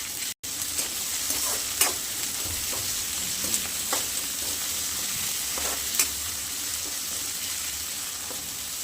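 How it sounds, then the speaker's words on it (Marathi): Onion and tomato sauté in a pan for a potato and pea dish, giving a steady sizzle with several soft stirring scrapes at irregular moments. "कांदा टोमॅटो आपण जास्त नाही परतू द्यायचा"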